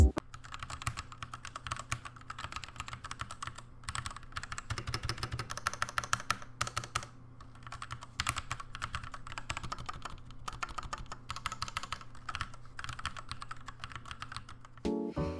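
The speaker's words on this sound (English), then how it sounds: "the keyboard feels really nice, and the stabilizers sound super clean, and they don't rattle at all" A mechanical keyboard from Royal Kludge with clean, non-rattling stabilizers is typed on steadily at a fast, even pace, with dense clacky keystrokes continuing close up and without anyone speaking.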